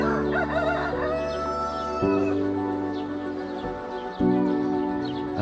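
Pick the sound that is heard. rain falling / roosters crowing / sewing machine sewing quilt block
roosters crowing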